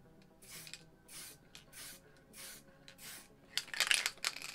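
White spray paint is sprayed onto a spare piece of card in a series of short, even hissing bursts, ending with a louder, denser spray, all quiet and close with no talking.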